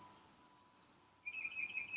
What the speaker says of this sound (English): So just listen to the breeze. Listen to the birds